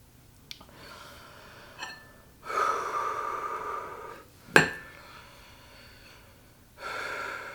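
Heavy, ragged gasping breaths from someone who has just eaten very spicy food, coming in several loud bursts with a sharp snort-like catch partway through and faint clinks of dishes, no speech.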